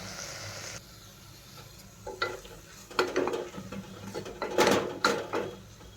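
A spoon stirs turmeric and red chilli powder through hot oil in a frying pan while cooking egg biryani, giving soft sizzling with several distinct scraping strokes and clinks up close.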